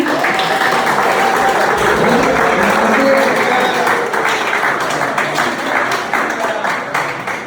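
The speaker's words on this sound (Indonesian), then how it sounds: "Sekali lagi tepuk tangan buat teman-teman semuanya." An audience claps in a sustained, loud round of applause that slowly tapers off toward the end, with faint voices and tones underneath.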